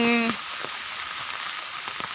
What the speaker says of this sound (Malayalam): ഇവിടെ നല്ല പെരും മഴയാണെന്നേ